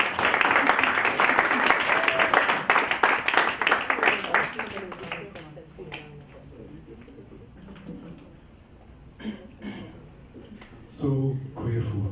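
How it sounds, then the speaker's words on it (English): Applause for the founder at a networking event, strong clapping for the first few seconds that tapers off into quieter scattered claps, then talk resumes. "let's give a hand of applause to our founder"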